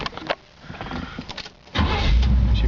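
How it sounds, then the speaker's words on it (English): A 1972 Chevy Camaro is started with the key: a few light clicks and a brief whir come first, then the engine catches at close range with a loud, deep rumble that holds steady to the end. "She fires up with the touch of the key."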